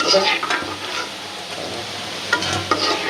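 Frozen snack items deep-frying in oil as they turn golden brown: a close, steady crackling sizzle with occasional scrapes and taps of a utensil in the pan.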